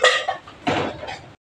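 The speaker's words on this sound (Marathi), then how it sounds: "भांडी घासायला लागल्या ती" Dishes, pots and pans clatter and scrape during scrubbing at a rural home, a short burst of close metallic knocks and rubbing.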